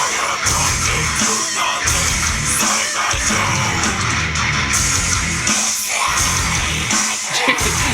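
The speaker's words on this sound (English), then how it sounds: "The screams are funny." Loud, dense screaming and yelling from people in a music video played back, harsh and sustained across the whole stretch with heavy, distorted music underneath.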